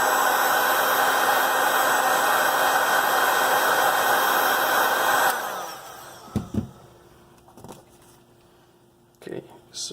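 A heat gun blows a loud, steady rushing roar at the fingerprint sensor of a Google Pixel 3 XL phone, then cuts off abruptly, followed by brief handling clicks and light talk.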